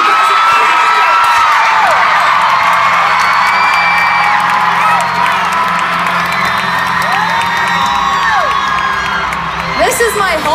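A stadium crowd of about 50,000 at a Philadelphia pop concert screams and cheers loudly and continuously, with high whoops and shrieks rising out of the roar.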